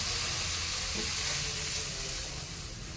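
Water hitting sizzling fried spice masala for a fish curry, a loud, dense, continuous hiss filling the whole moment close up, with no voices.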